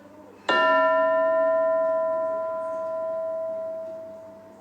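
A school bell is struck once, loud and close, and its clear metallic tone hangs and slowly fades for several seconds in a quiet room.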